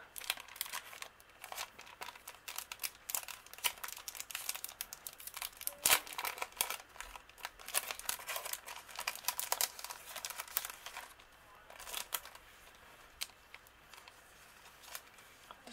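Nail foil packaging crinkled and handled up close, with continuous fine rustling and crackling and a few sharper snaps, fairly quiet throughout.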